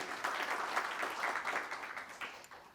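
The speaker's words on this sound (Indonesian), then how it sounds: "Kasat Pak Jenderal Dudung, kita berikan aplaus juga" Crowd applause at an advocates' swearing-in ceremony in Jakarta, a steady dense clapping that runs through the whole stretch at moderate distance, fairly quiet.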